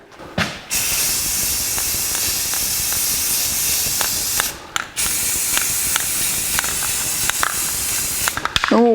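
Spray can coating the frame of a 1982 Jeep CJ7, heard as steady close hissing bursts broken by short pauses, with a few quick clicks between passes and no talking.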